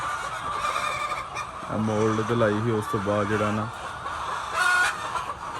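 Young white hens around five to seven months old let out two short bursts of loud, honking squawks, with someone talking over and between them.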